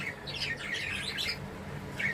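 Rapid, chattering chirps and squawks from a male budgerigar, close by, in a continuous warbling stream with a short pause before a final burst.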